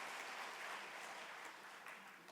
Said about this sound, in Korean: 주님께 감사의 박수 드립니다.